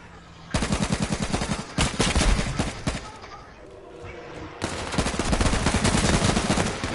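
Rapid automatic gunfire rattles in the H1Z1 video game, two long bursts of dense, loud shots broken by a short quieter gap.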